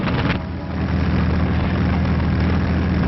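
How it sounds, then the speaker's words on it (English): World War II aeroplane engines give a continuous heavy droning roar with a muffled, narrow-band wartime newsreel character, holding steady after a short dip near the start. "the sound of aeroplane engines filled the air"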